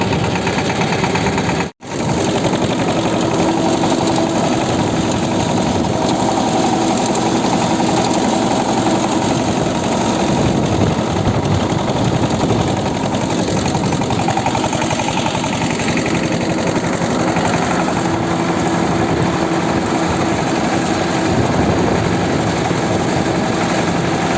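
A motor tiller engine runs continuously in low gear while tilling a garden plot for potato planting, a loud steady mechanical drone with one brief cut near the start.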